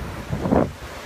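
Wind buffets the microphone at an ocean shore over a brief rush of surf, with a single swell of noise rising and fading within about a second.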